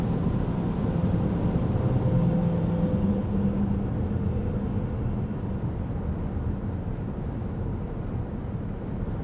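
A 2020 Toyota Highlander Hybrid Platinum cruises on a grooved concrete highway beside a semi-truck, producing a constant, dense low road roar and tire hum that holds steady throughout with no talking.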